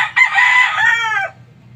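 A rooster crows once, loud and close, a single drawn-out call lasting about a second over a low background hum.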